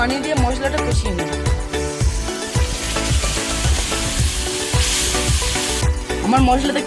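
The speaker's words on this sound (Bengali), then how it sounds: "অল্প একটু পানি দিয়ে মশলাটা কষিয়ে নেব।" Spice masala with onion, garam masala, turmeric and chili powder sizzles while it is fried down with a splash of water, a steady close frying hiss running under loud rhythmic background music.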